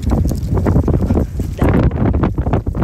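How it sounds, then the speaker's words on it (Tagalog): Strong, cold wind gusts outdoors, loud buffeting microphone noise in uneven bursts throughout, near and harsh. "Kaso ang hangin, sobrang hangin guys, lamig."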